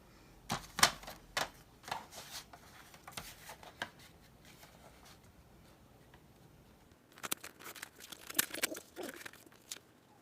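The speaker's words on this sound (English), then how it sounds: "I'm just going to cut an inch off of each of these as well." Paper pocket pages being trimmed an inch shorter, with close crisp snips and rustling in clustered bursts, then a pause before a denser run of cutting and paper handling; no talking.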